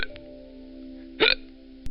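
A single sharp hiccup sounds near the middle, with a brief second catch at the very end, over a steady low background hum.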